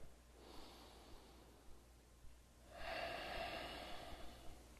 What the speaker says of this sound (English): Really slow, controlled breathing in and out of your nose.